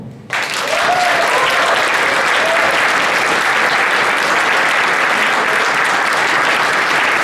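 A convention crowd at the Fluufff opening ceremony bursts into applause for the staff, a dense, loud, sustained wash of clapping that rises quickly and holds steady.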